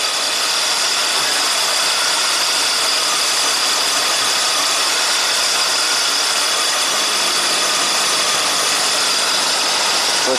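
A 1985 Oldsmobile engine idles steadily with a faint rattle and vibration while its ignition timing is adjusted, a continuous near mechanical hum with no talking.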